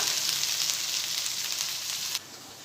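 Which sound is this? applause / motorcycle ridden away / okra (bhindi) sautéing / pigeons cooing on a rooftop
okra (bhindi) sautéing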